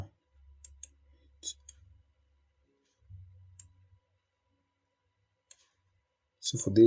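A computer mouse gives a few sharp, quiet clicks scattered through near silence, with low murmuring and a voice speaking briefly at the end.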